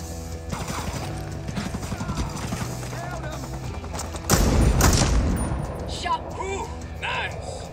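Dense, continuous gunfire and booms fill a Ghost Recon Breakpoint firefight, with a louder burst partway through and mechanical clatter under the shots. Voices talk over the combat throughout.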